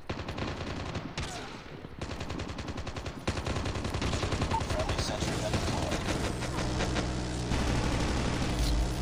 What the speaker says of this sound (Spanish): Y se queda la torreta sonando como...